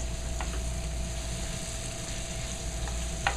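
Onions sizzle in a hot pan in an Indian cooking class kitchen, a steady close crackle and hiss with occasional faint clinks, no talking over it.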